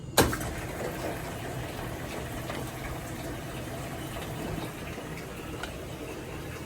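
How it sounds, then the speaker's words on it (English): Washing machine beginning a heavy hot wash with cloth diapers and filling with water, a steady close rushing and gurgling flow after a sharp click at the start. "And then you're just going to start the wash."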